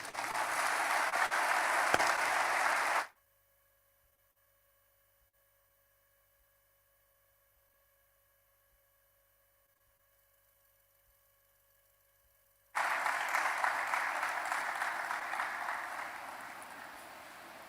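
An audience claps after a speech at a GBA conference opening ceremony in Bolga. A burst of crowd applause is followed by a long stretch of near silence with faint hum, then the clapping returns and slowly fades.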